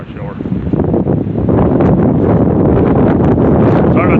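Wind blows steadily outdoors in a cemetery, a loud broadband rush that buffets the microphone and rises stronger after the first second, with faint speech underneath.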